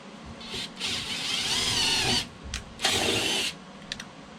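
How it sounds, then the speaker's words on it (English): A power drill whirs in two bursts as it bores a pilot hole with a self-tapping screw in a rat rod car, its pitch rising and falling under load, with short trigger blips at the end. "drill a pilot hole with self-tapper"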